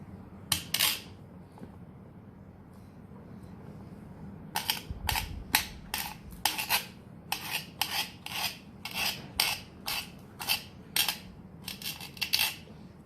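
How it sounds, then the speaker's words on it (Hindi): Knife chopping red chilies on a board, a series of sharp, evenly spaced cutting clicks in quick bursts, close and crisp, with no talking. "तो सबसे पहले मिर्चों को हम कटिंग कर लेते हैं।"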